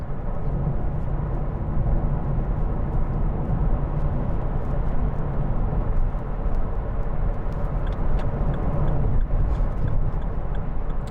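2011 Vauxhall Corsa 1.2i 16v under way, a steady low engine drone with road and tyre rumble filling the cabin at constant loudness, no talk.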